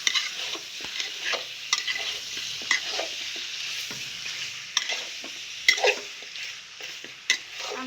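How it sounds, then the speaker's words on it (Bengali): Food frying in oil with salt, chili and spices is stirred steadily, close sizzling broken by repeated sharp scraping strokes of the utensil against the pan, with no voices. "আপনারাও এরকম সুন্দর করে লাড়বেন, লাড়লে জিনিসটা লবণ মরিচ তেল মশলা সব দেখব।"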